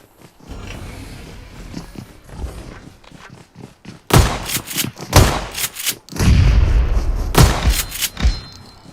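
Loud bursts of gunfire and heavy booming blasts erupt in rapid clusters after a quieter stretch, sounding close and punchy like game combat.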